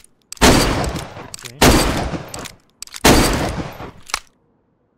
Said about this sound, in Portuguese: Já vai atirar em rumo ao portão, né?